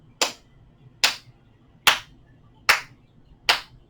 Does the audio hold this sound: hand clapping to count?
yes